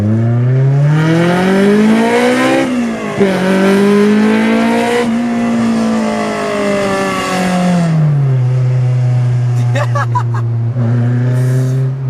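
A Honda S2000 sports car with an aftermarket Apex N1 exhaust revs hard and loud while driving, its pitch climbing through gears, dropping on shifts, then settling into a steady high drone.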